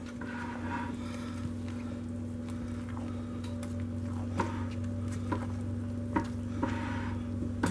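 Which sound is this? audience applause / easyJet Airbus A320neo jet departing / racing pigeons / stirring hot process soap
stirring hot process soap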